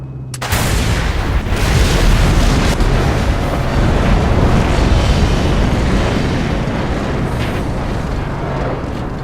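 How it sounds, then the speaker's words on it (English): Loud, continuous rumbling explosions and roaring fire from the game Mad Max, with a deep booming low end, sustained without pause. "Mad Max includes some of the best looking explosions and fire effects"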